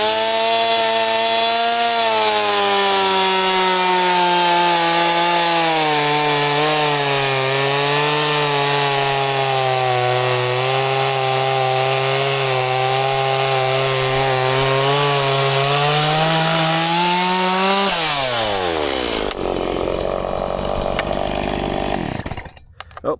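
A chainsaw with most of its chain teeth removed runs against wood, holding a steady, loud, buzzing tone that wavers slightly for about eighteen seconds, then drops in pitch and winds down to near silence.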